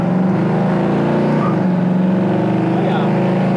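A 1972 Chevy Nova engine roars loudly close by, its revs swelling and dipping in a throaty, continuous drone.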